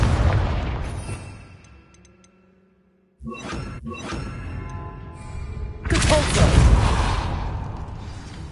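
A Confringo fire spell explosion in Hogwarts Legacy: a loud booming blast with a shattering burst after a moment of silence, followed by a big, noisy eruption that swells and lingers.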